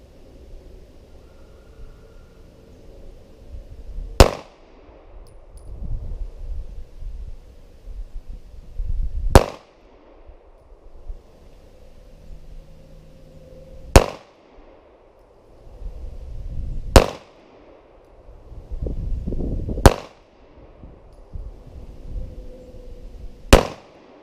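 Six sharp, loud pistol shots from a Kel Tec PF9 loaded with Speer Gold Dot ammunition, each fired alone about every five seconds, with quiet rustling and handling noise in the gaps.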